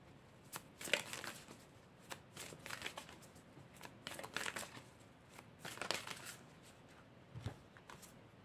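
Tarot cards are shuffled and drawn close by in soft, quiet bursts of riffling and flicking paper. The irregular rustles come in clusters with short pauses between them.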